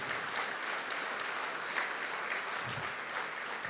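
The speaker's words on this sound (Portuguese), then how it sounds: "Por isso que eu vou pedir a você para aplaudir" A church congregation applauds the name of Jesus during a sermon, steady dense clapping from many hands that holds evenly throughout.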